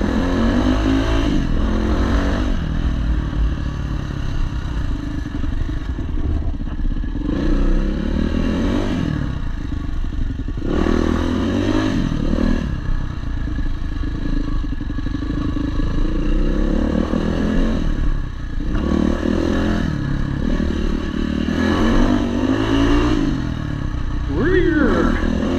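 A Yamaha WR400F dirt bike is ridden on MX trails, its engine revving up and easing off in repeated surges, loud and close, with wind buffeting throughout.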